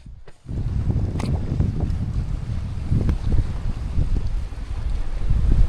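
Strong wind gusts buffet the microphone on a secluded Croatian island, a continuous roaring rush with low rumbling throughout; no talking.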